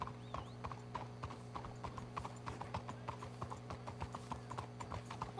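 Horses' hooves clip-clop in a steady, even walking rhythm in Red Dead Redemption 2, with regular close hoof strikes over a low, constant background drone and no talking.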